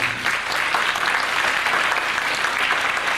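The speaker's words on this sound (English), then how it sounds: "Would y'all give her a big round of applause?" A dense, loud burst of audience applause at an event, continuous, full clapping from many hands sustained evenly throughout with no voices standing out.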